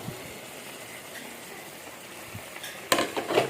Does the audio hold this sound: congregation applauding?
no